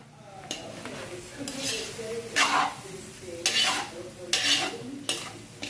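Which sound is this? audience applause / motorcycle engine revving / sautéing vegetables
sautéing vegetables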